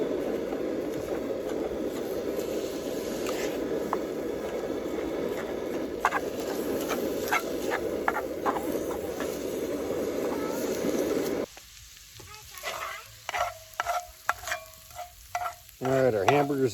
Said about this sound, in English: we're just gonna go ahead and brown up our hamburger right here in our Dutch oven